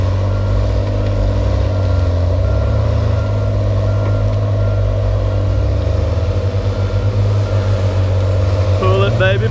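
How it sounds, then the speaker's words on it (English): Cummins diesel engine of a Tigercat 635D skidder droning loudly under load, a deep continuous rumble with steady low tones throughout, with faint beeping near the end. "I love to hear that Cummins run"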